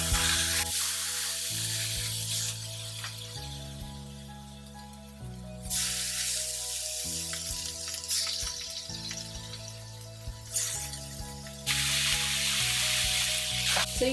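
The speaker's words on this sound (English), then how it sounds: "It should be still very hot, so we're going to cook the meat now." Thick slices of pork for Japanese ginger pork sear in a hot oiled pan, a steady hissing sizzle that swells and eases over soft background music.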